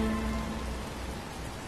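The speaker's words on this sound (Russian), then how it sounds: "Но ведь дождь начинается" Rain falling in Batman: Arkham Asylum, a dense, steady hiss of drops spattering on surfaces, loud and continuous from start to end, with a faint low tone fading in the first half.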